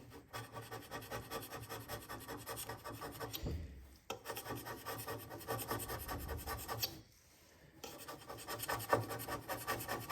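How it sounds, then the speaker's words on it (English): A hand scraper works the metal way of a DIY CNC machine in repeated close rasping strokes, a short pause breaking the even rhythm, with no talk over it. "you can definitely see I am scraping some material off"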